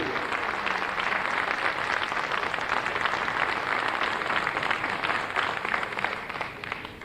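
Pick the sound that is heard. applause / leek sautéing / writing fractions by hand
applause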